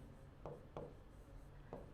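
A teacher writing a math function on a board, leaving three or four short scratchy strokes, faint and close, spaced irregularly against a quiet room background.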